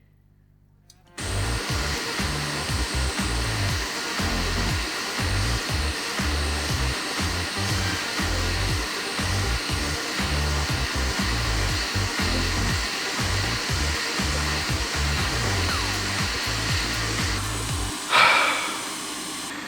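A hot air rework station blows a steady, loud airflow rush across a water-damaged Nintendo Switch Lite circuit board, running continuously at full flow close to the microphone before a brief shift near the end.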